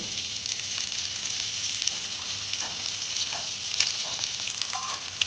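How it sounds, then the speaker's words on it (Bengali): Halved boiled eggs fry in hot oil in a kadai, a continuous bright sizzle with small pops and crackles, close and steady with no talking. "এবার এগুলোকে আমি উল্টে দুটো সাইডেই আমি ভেজে নেব"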